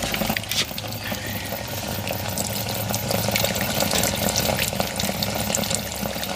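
Water from a Fisher & Paykel Smart Drive GW712 washing machine pumps out through a drain hose outdoors, a steady, continuous splashing gush that stays even and fairly loud throughout, with no voices.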